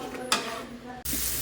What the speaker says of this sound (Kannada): ಸ್ವಲ್ಪ ಬ್ರೌನ್ ಕಲರ್ ಆಗೋ ತನಕ ಫ್ರೈ ಮಾಡ್ಕೊಳ್ಳೋಣ ಅಂತ ಫ್ರೈ ಮಾಡ್ಕೊತಾ ಇದ್ದೀನಿ